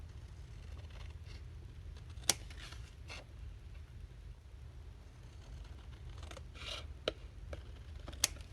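Scissors snip along the border of a handmade journal card, a few faint, sharp cuts spaced apart over quiet paper rustling and handling.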